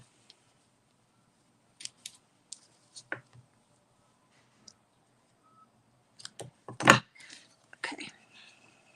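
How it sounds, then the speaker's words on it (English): Scissors trim off a small piece of paper while folding a basket card, a few quiet snips and clicks scattered across the stretch, with a denser burst of cutting near the end. "And then I'm just going to trim that off."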